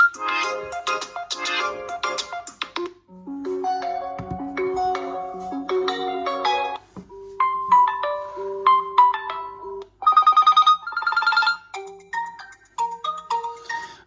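A realme GT 2 phone plays a ringtone through its speaker: a bright, melodic sequence of electronic tones in shifting phrases with brief pauses, clear and up close, no talk.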